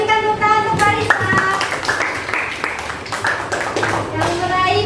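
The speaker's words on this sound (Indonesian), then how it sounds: "Kita berikan tepuk tangan untuk Farisa." Children clapping in an Indonesian school classroom, a burst of close, sharp handclaps with a speaking voice and children's chatter mixed in, fading and rising again.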